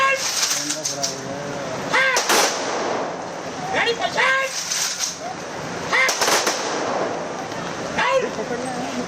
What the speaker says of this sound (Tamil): துப்பாக்கி குண்டுகள் முழங்க அரசு மரியாதையுடன் தகனம்